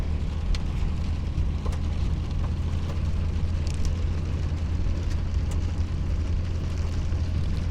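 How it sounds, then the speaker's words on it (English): Heavy rain pours down steadily, a dense broadband hiss with a strong low rumble throughout and scattered brief drips and taps on top, close and constant with no talking. "Nice little rain we've got."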